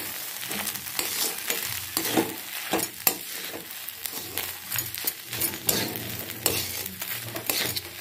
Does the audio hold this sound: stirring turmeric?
yes